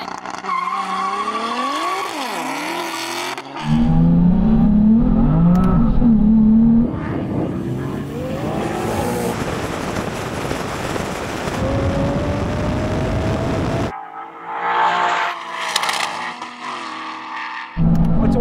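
A BMW M3 and Ford Mustang drag race launch, with loud engine roars, rising revs and tyre squeal, then gear shifts as the engines pull away, and a brief cut to another engine burst near the end.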